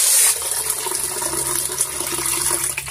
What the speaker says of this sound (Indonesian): Nah itu disiram dulu